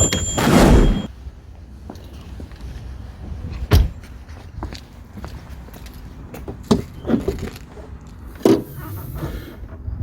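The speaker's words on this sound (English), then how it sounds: "Let me go ahead and open the door and pop the hood." A 2018 Mercedes S560 4MATIC's door clicks open with a sharp clunk, followed by a louder hood latch pop, then scattered knocks and rustling handling sounds nearby.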